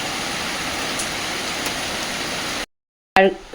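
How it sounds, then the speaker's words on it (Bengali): Heavy rain pours down around a rural village home as a loud, even hiss for under three seconds, then cuts to silence before a brief burst of sound. "এই যে প্রচুর বৃষ্টি হচ্ছে প্রচুর মাত্রা বৃষ্টি"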